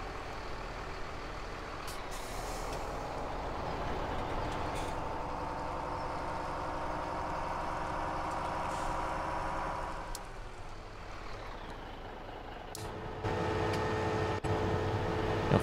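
A truck engine idles steadily in Farming Simulator 17 on the River Basin map during a chopping operation, a continuous low rumble with occasional air-brake hisses and a shift in engine tone near the end.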